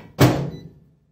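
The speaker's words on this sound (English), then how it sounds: "put it on a plate and microwave it for a minute" A microwave oven door shuts with one solid thunk while a plate of rolled cinnamon roll dough sits inside; the close knock fades over about a second, with no voices.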